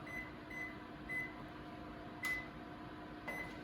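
An oven's timer gives a run of short, faint beeps at uneven gaps as it is set. A soft mechanical hum continues underneath, along with a couple of light clicks.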